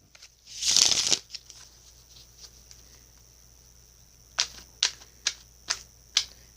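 Oracle cards from the Sacred Rebels and Healing and Meditation decks being shuffled, a long riffling burst early on followed by a quiet pause and then a series of five or six sharp, evenly spaced card taps or snaps, close and clear.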